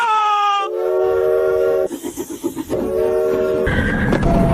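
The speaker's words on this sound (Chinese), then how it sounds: "这是蒸汽火车" A steam train used for hauling cargo sounds a loud tonal whistle, then gives a burst of rhythmic chugging, then whistles again over a rising rumble, with no speech.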